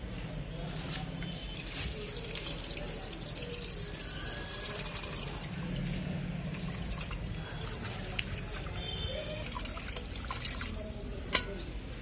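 Water runs and splashes steadily from a tap into a vessel holding fish with salt and turmeric, close by, a continuous rushing flow with faint clinks.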